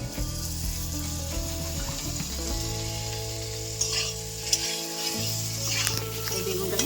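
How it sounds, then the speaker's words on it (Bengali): Eggplant frying in mustard oil, a steady close sizzle with occasional stirring and spatula scrapes, running continuously without any talking. "লাল লাল করে আমরা ভেজে নেব আমি এই যে বেগুনটা হালকা আছে ভালো করে ভেজে নিয়েছি"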